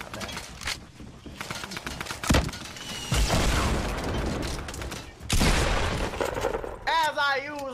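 Gunfire in the Fortnite video game: several bursts of shots with booms, layered with game effects and a final whooshing launch-pad sound, loud and busy throughout.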